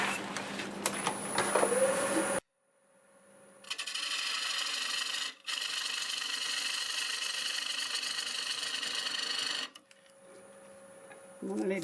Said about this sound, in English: I'm going to use the 3/8 bowl gouge.